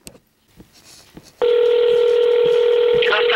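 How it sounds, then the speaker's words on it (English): A steady electronic telephone ringing tone, heard as a call connects, starts abruptly partway through and holds loud and continuous to the end, after a stretch of faint background noise. "A short ringing, your call is connecting."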